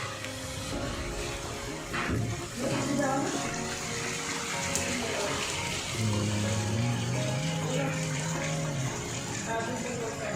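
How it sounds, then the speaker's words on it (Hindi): Heavy rain pours down steadily near a rooftop, a loud, continuous hiss and splash of water, with people talking over it. "बहुत तेज बारिश हो रही है आज तो।"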